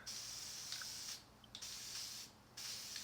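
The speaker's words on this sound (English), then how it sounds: "you're just going to spray back and forth" Spray paint hissing in steady back-and-forth passes over a guitar stencil, three sustained bursts separated by brief pauses, close and soft, with no voices.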